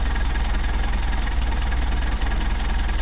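A Mercedes 190SL engine idles as its carburetors warm up, a loud, steady, close rumble with an even pulsing beat and no talking.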